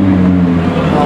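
A car engine, one of the high-end Ferraris, rumbles steadily and loudly up close as the driver downshifts into a turn, a deep continuous drone with no voices over it.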